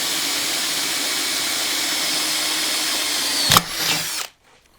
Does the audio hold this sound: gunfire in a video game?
no